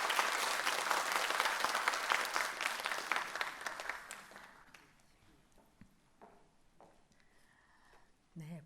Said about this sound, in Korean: 여러분 박수로 목사님을 맞이해 주십시오